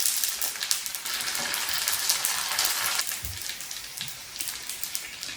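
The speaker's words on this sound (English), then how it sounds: "I deep fry puris" Puris deep frying in hot oil give off a steady, dense crackling sizzle that stays close and fairly loud throughout, with no voices.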